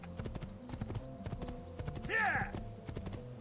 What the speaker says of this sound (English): I love the sound design of the horse in general.